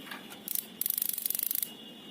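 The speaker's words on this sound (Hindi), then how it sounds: "ये जो आवाज़ होती है ये हमारे गैस गीजर के लाइटर्स की होती है, यानी कि स्पार्क की।" Electric spark lighter of a household gas geyser ticking close to the mic, with a short burst of clicks followed by a rapid, evenly spaced string of sharp sparking snaps that then stops.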